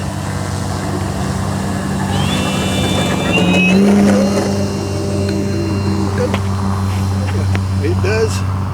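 A rebuilt Hangar 9 Fokker RC model airplane with its engine running steadily and droning nearby, its tone rising slightly as it passes, while people talk over it.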